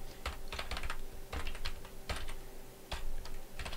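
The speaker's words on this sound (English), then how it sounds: "And I'll type it in." Typing on a computer keyboard comes as quick clusters of close, crisp key clicks separated by short pauses, over a faint steady tone, with no voices.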